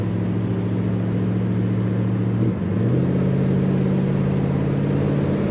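A 1966 Chevrolet Chevelle Malibu convertible drives along with a steady, loud engine drone and road rumble heard from inside, easing briefly mid-way before pulling on again.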